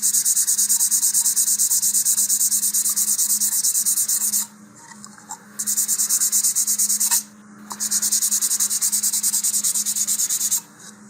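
Steady, close scraping of sanding against a model rocket's motor mount tube, continuing in long strokes with two brief pauses.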